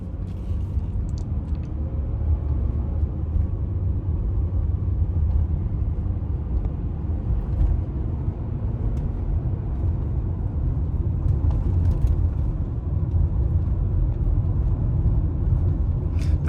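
A 1999 Mercedes S320 W140 idles steadily after a warm-weather cold start in the desert, giving a low, smooth, constant rumble that stays even throughout with no talk.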